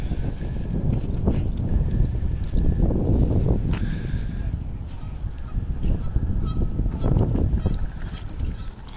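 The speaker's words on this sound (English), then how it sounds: "Whole family of geese, ducks." Geese, part of a family group with ducks, honk repeatedly in a park in Queens, fairly close and loud, over steady outdoor background noise.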